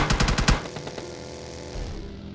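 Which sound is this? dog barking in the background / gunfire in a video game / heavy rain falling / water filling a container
gunfire in a video game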